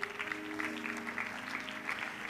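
Applause from a church congregation during a Spanish-language evangelical service, steady clapping over a sustained tonal hum, with musical tones running underneath throughout.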